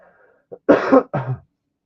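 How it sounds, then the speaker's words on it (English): A person recovering from flu coughs: a small throat catch followed by two hoarse, close coughs, then silence. "I need to cough"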